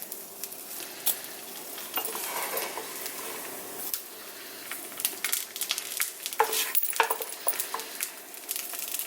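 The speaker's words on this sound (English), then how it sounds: "you can hear that sizzle of the butter" Butter sizzles and crackles steadily in a hot pan, with bursts of spattering rising and falling, close up and fairly loud, no voices.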